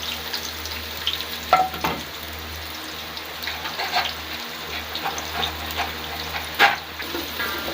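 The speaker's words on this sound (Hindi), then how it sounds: "ऑयल को हमने जो है हल्का सा गर्म कर लिया है। अब हम इसमें जो है प्याज शामिल करेंगे।" Onions fry in hot oil in a pot with a steady crackling sizzle, broken by several sharper spatters and stirring clatters, heard close with no voices.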